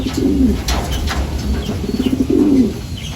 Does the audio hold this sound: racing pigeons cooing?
yes